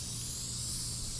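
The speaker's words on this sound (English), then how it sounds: "spraying the material, your board and your material, because that way you get the best possible adhesion" A can of spray adhesive hisses steadily as it coats upholstery material and a backing board during an interior makeover of the Black Pearl, a continuous close airy spray with no pauses.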